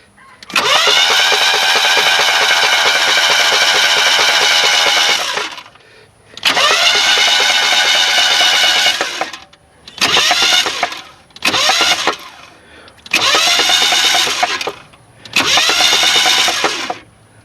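A 1994 Chevrolet Astro van engine cranking over repeatedly in six separate bursts of steady rapid starter chugging, each with a faint puck knock from cylinder six, close up with pauses between.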